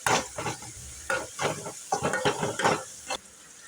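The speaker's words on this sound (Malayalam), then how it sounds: "നല്ലോണം ഇളക്കാം." Beetroot curry being stirred in a frying pan, a spoon scraping through the pieces in repeated strokes over a steady sizzle, close and fairly loud, with no talking.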